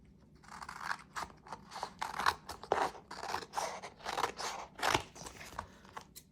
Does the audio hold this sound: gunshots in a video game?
no